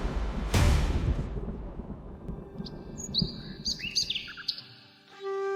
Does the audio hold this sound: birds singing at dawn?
yes